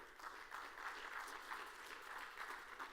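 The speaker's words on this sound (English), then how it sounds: "Please give them a round of applause." An audience at the SXSW 2023 food summit applauds a panel, a steady wash of many hands clapping at moderate distance, continuous and even throughout with no speech over it.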